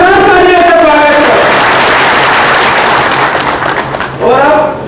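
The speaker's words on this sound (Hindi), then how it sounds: "जरा भूरिया जी के लिए, कांतिलाल भूरिया जी के लिए जोरदार तालियों से स्वागत" Political rally crowd applauding loudly for Kantilal Bhuria, a dense roar of clapping that swells and holds for several seconds, with a speaker's amplified voice at the start and end.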